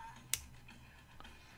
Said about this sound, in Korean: 언제나 느낌이 딱딱 소리 나는 이 레고 소리 참 좋습니다.